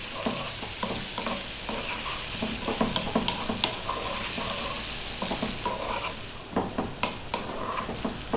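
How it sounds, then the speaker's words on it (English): Ginger garlic paste frying in a pan with potatoes for a potato curry, a steady close sizzle with continuous scraping and stirring strokes of a spoon against the pan. "This time we're going to be stirring all the time."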